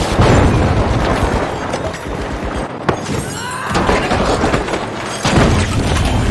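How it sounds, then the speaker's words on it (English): A gas grenade going off in the game The Finals, with loud booming blasts and a steady dense rumble in a chaotic arena fight, several sharp bangs standing out from the din. "Outgoing gas grenade"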